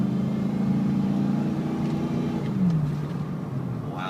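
A 2007 GMC Sierra 4x4 pickup runs at a steady, smooth idle: an even low hum with a faint tonal drone, close and continuous, shifting pitch slightly near the end.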